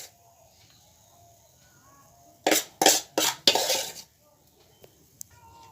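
A spoon mixes flour into fruit cake batter in a bowl with four quick, close scraping strokes in a short burst, then stops.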